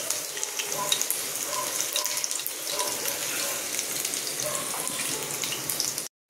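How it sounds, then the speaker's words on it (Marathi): Garlic frying in a pan while cooking a vegetable dish with amaranth leaves, a loud, steady, dense sizzle that fills the whole stretch up close before cutting off abruptly, with a voice speaking faintly beneath it. "सो बघू शकता लसूण आपला भाजतोय, म्हणजे हे होतं आहे."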